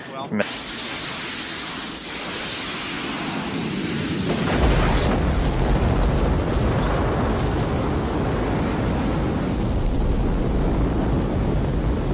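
A Soyuz rocket's engines roar at launch, a loud, steady, broadband rumble that swells after a sharp onset and holds strong throughout, with a voice speaking faintly over it.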